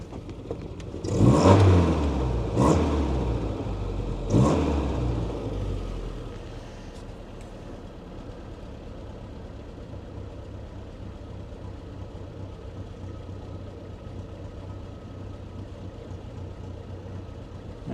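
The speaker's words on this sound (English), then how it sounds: "It's falling to tick over at about 900 RPM, so it's a little high." A cold MG Midget engine fires up with a couple of loud revs, then drops into a steady, slightly high tickover heard close by for the rest of the stretch.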